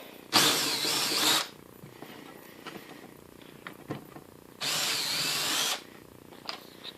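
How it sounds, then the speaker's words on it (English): A power drill whirs in two separate bursts of about a second each, with quiet clicks and handling noises in between. "I'm just going to do this with my ordinary drill."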